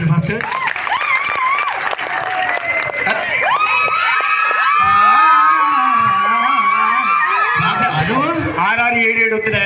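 Studio audience at a Jabardasth comedy show applauds and cheers in a steady, fairly loud wash of clapping and crowd noise, with voices and laughter mixed in throughout.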